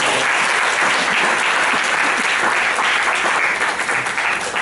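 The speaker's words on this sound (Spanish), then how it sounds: "Un aplauso para Juan Manuel, por favor." An audience at a football film festival panel discussion gives a loud, dense round of applause for a guest. Steady clapping fills the room for a few seconds.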